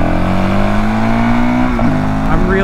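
Stock Honda CRF450RL dirt bike engine running steadily close by, a continuous throaty drone with a slight rise in pitch partway through and a brief throttle blip near the end.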